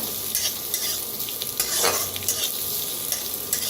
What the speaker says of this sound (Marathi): त्याला बी भाजून थोडंसं तेल ओतून भाजून घेऊया